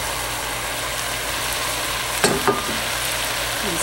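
Chopped onions tipped into a pan of browned meat for potato leek soup, hissing steadily with a couple of sharp stirring scrapes and clatters partway through.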